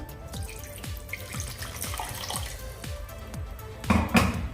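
About one and a half glasses of water pour and splash into a pot of Bombay duck curry with a gurgling, bubbling rhythm, growing a bit louder toward the end. No talking.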